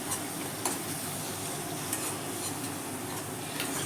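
Spices for doi potol sautéing in a kadai, a constant close sizzle broken by light ticks and scrapes of a spatula against the pan, with no one speaking.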